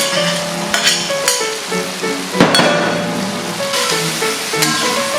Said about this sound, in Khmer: ហើយឥឡូវយើងចាប់ផ្ដើមចាក់បន្លែយើងណាបងប្អូនចា